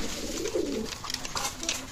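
Teddy pigeons of Oman bloodline coo close by in a few quick, throaty rolling phrases packed into under two seconds.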